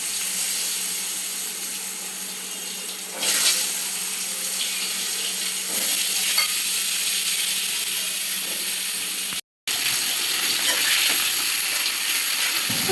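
Cut raw papaya goes into a hot pan with bay leaf and a little cumin and is stirred, giving a steady broad hissing sizzle throughout with faint scraping, broken by a brief dropout.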